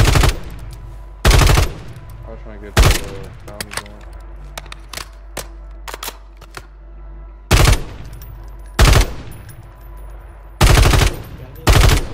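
Bursts of automatic gunfire from Call of Duty Warzone on Rebirth Island, loud and sharp in about six separate volleys over twelve seconds, with quieter clicks and game noises between them.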